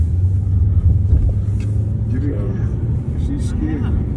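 A Hyundai Kona SEL all-wheel drive rumbling on a snowy New York street, low steady engine and road drone up close under people talking.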